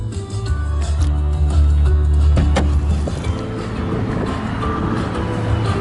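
A 2023 Mitsubishi Mirage G4 1.2-litre three-cylinder with CVT idles nearby, a steady low rumbling engine drone with a brief rev-like swell early on and faint clicks.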